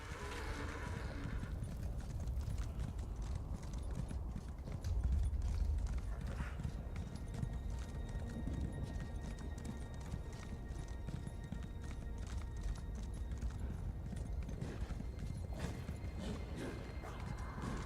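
Hooves of a horse mount clip-clop steadily in the video game Elder Scrolls Online, a close, rhythmic trot running throughout with a soft neigh-like swell midway and brief speech.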